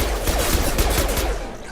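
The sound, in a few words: gunfire in video game Mass Effect 2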